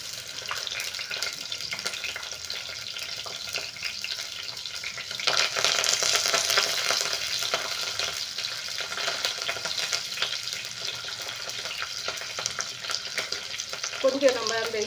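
Garlic frying in a pan for sambar rice gives a steady close sizzle, swelling louder around the middle as the pan is stirred, with a faint clink near the end.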